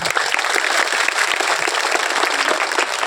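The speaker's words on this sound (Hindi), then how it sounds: "तो हमें अपने पुरखों के लिए एक बार ताली बजा दीजिए।" A crowd at a public gathering claps for revered ancestors in a steady, dense burst of applause, loud and continuous, with no voices over it.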